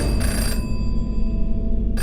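An old-style telephone bell rings steadily and loudly, one sustained electronic trill close by that carries without a break, with no voices over it.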